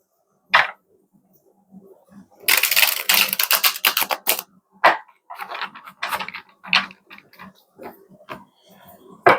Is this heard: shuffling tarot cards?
yes